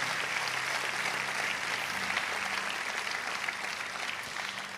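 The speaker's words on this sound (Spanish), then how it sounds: "un aplauso fuerte al Señor" Church congregation applauding at a worship service, a sustained dense clapping from many hands filling the room and holding steady, with a low murmur beneath.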